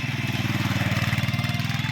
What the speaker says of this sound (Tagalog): Hirap na hirap ang motor.